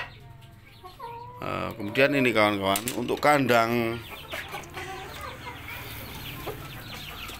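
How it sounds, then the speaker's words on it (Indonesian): Ayam Cemani chickens cluck and cackle in a simple free-range pen, a burst of loud, close calls that fades into softer clucking while someone talks. "Ini ayam cemaninya"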